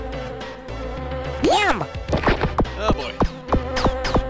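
Buzzing killer bees from Jazz Jackrabbit Doom, a game, swoop close in repeated rising and falling whines and zips over a low hum, with a short spoken exclamation at the start.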